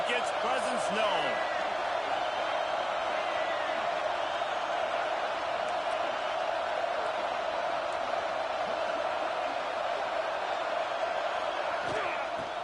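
A football stadium crowd produces a steady, loud, unbroken roar that holds at the same level throughout, with a few faint sharp accents near the start and end.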